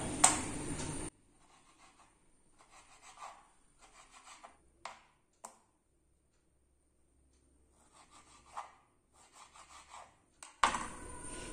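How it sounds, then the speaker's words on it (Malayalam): Vadukapuli lemon is finely chopped on a board for Onam sadya pickle, making soft, rapid knife strokes in short quiet runs separated by pauses, close by and faint, with no speech. "കുനുകുനായിട്ട് അരിഞ്ഞെടുക്കാം."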